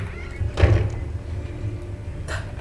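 A door in the Roblox video game slides or swings open with a heavy thunk, followed later by a softer second knock over a constant low background rumble.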